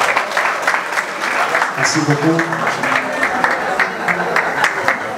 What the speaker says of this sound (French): Applaudissez pour ce grand homme.